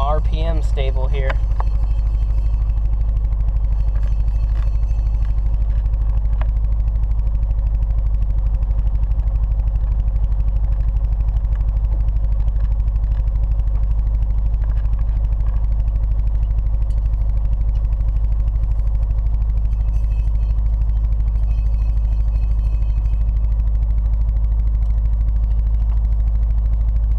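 Turbocharged Nissan 240SX engine holding a slightly raised idle during a Sea Foam treatment, a steady, loud, low drone throughout with a few brief clatters and knocks near the start.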